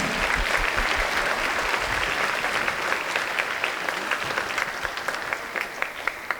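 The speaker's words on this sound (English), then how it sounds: "So another round of applause for the 8th graders." A school concert audience claps steadily for several seconds for 8th graders, dense applause that thins toward the end into scattered individual claps.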